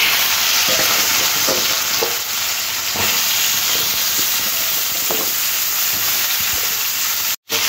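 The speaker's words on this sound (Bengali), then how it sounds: "এরপরে সবজিগুলো তেলের মধ্যে নাড়াচাড়া করে একটু ভেজে নেব।" Green banana, papaya and potato pieces stirred in hot fish-frying oil with cumin, making a loud, continuous sizzle broken by the scrape and clack of a spatula, with a brief dropout near the end and no talking.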